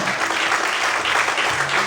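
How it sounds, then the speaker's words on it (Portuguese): A church congregation claps steadily in a dense, continuous burst of applause that fills the whole short moment, close and loud. "Se você crê, bate palma e adora o Senhor nessa noite, em nome de Jesus."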